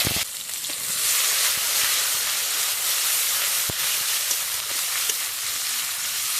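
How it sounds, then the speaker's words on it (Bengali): Onion paste sizzles steadily in hot oil with dry red chillies and black cumin, a continuous close frying hiss that runs the whole time with a few faint clicks and no talking. "পেঁয়াজটা একটু ভাজা ভাজা করে নেব"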